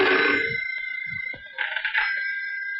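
A telephone bell rings with a bright, steady tone, breaking into louder trilling bursts in the latter half after some brief thumps and noises early on.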